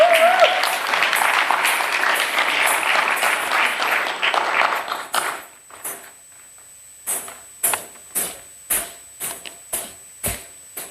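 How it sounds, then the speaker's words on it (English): Audience applause for a Bharatanatyam dancer at her arangetram in a theatre, a loud sustained crowd clapping that fades after about five seconds, followed by a few scattered sharp claps. "Gatha, kindly come to the stage so we can give you a big round of applause."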